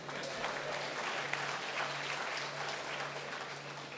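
A Rotary Club gathering in Coimbatore gives a round of applause, a quiet, distant, even patter of many hands continuing without a break under a faint low hum.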